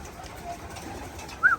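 Soft cooing from racing pigeons rises briefly near the end, a single short call over a faint, hissy outdoor background.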